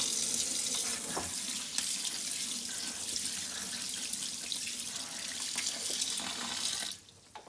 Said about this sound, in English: And you rinse them just a little.